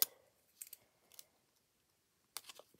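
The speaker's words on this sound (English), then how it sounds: "So again, with my scissors," A few quick, crisp snips of scissors cutting paper for a stamped blue lily journal page, three short separated bursts close by in a quiet room.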